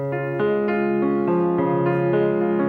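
Piano notes played one after another in a slightly detached way, each attack distinct, with no voices present.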